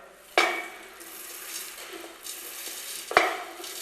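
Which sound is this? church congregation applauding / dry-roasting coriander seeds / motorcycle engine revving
dry-roasting coriander seeds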